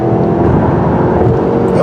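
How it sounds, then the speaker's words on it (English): A 2020 Subaru Legacy XT's turbocharged engine pulls hard under acceleration, a steady loud drone heard from inside the cabin, with faint talking mixed in beneath the engine noise. "This turbo engine's got a lot of guts, hitting 16 around 6 seconds once it cranks up the torque"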